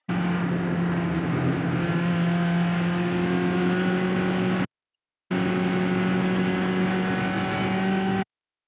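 A race car on an onboard lap at VIR North gives a loud, steady engine drone with a strong tonal whine and wind rush that holds through the lap, broken by a short drop to silence partway.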